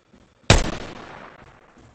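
A single sharp gunshot in the tactical shooter game Ground Branch cracks out loud and close, then trails into a reverberant decay over about a second and a half.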